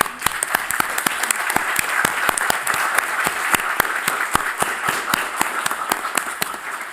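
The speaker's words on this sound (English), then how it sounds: "now it's time to applaud for both laudatios" An audience at a PhD defence claps steadily for the laudatios, the sharp, close hand claps falling in a regular, almost rhythmic beat that holds at an even level from start to finish.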